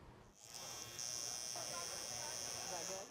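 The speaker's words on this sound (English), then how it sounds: "Hearing the buzz of clippers, you would think people are getting haircuts outside of a brewery" Electric hair clippers buzz steadily while heads are shaved outdoors at a charity event outside a brewery, a continuous high whine starting about half a second in and running to the end, with crowd chatter and background noise underneath.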